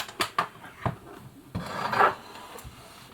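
Scraping and rattling as a motor cover comes off a Bernina Record 830 sewing machine, with a loose small nut knocking about. Several short clicks and rubs come first, then a longer grinding rasp, all close and without talking.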